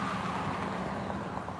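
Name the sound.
car driving by on road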